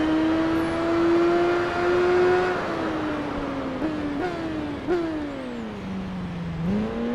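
A BMW superbike circles the Autumn Ring circuit in the racing game Tourist Trophy, its engine holding a loud steady whine that drops and climbs with each gear change and corner, close and continuous.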